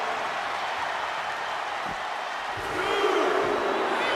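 Arena crowd in WWE 2K25 during a women's one-on-one match, a steady broad roar of cheering that swells louder toward the end, heard at a distance under faint commentary.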